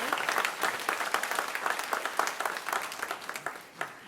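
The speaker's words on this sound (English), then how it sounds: "So let's give them all a round of applause." Audience at a middle school honors assembly giving a round of applause, dense continuous clapping from a crowd at moderate level, tapering slightly near the end.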